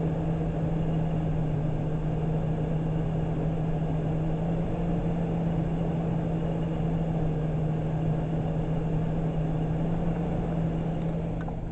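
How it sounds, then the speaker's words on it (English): Truck engine idling rough with one fuel injector disabled, a steady low droning hum with a constant tone, close and unchanging, no talk. "the whole truck started running a little rough, and the engine idle speed changed in sound"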